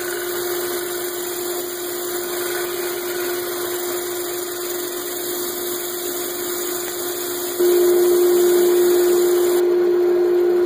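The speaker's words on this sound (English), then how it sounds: "I moved on to power sanding the rim." A steady, high motor whine with a constant hum runs throughout, stepping up slightly louder near the end, as a power sander works the rim of a pin oak hollow form.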